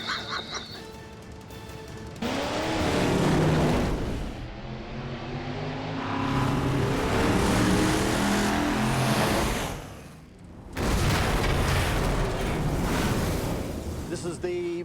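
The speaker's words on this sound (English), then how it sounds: "It's two V8 engines locked together into one shaft." A monster truck engine built from two V8 engines locked onto one shaft roars and revs loudly, its pitch climbing and falling in long surges over a heavy, sustained rumble, with a brief dip midway.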